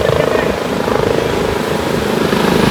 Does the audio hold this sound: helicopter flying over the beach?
yes